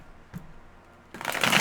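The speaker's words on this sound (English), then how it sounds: "I'm going to go ahead and shuffle the cards for you" Tarot cards being shuffled by hand: a single soft flick, a short pause, then a brisk riffling burst near the end, close and fairly quiet, with no talking.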